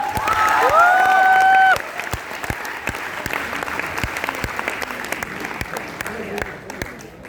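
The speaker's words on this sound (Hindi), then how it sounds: "तालियां हो जाएंगी एक बार।" At a motivational talk by a science teacher, an audience bursts into applause: dense clapping rings out under a voice for the first couple of seconds, then scattered individual claps and crowd murmur continue in the background.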